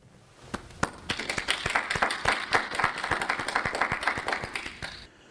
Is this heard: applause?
yes